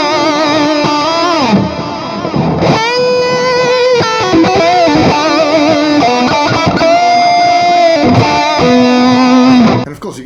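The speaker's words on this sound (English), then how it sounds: "So I'm going to add a little delay to this so we can play some" Electric guitar run through a LEKATO Tank G multi effects processor with delay, playing a loud distorted melodic phrase of sustained and bending notes that trail off in echoing repeats, with no talk.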